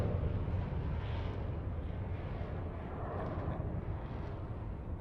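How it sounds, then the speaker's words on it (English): A Boeing military jet pulls up into the vertical for a half Cuban 8 at the 2016 Farnborough Airshow, with gear and flaps down. Its steady broadband roar sounds distant and muffled and holds for the whole stretch. "pulling up into the vertical for the half Cuban 8, so it shows you how agile the aircraft is in the landing configuration"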